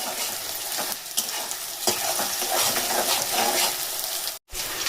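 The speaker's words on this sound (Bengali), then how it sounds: "আমি এখানে পেঁয়াজ ভাজতে দিয়েছি" About 300 grams of thinly sliced onions fry in a pan with a dense, loud, continuous sizzle that briefly cuts out near the end; no one speaks.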